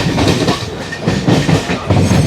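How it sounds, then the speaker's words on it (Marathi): The Dhule–Mumbai Dhule Express rushes past close by, loud and continuous, its wheels beating out a rhythmic clickety-clack over the rails with no voices heard. "आपल्या समोरून जी जाते ती धुळे मुंबई धुळे एक्सप्रेस."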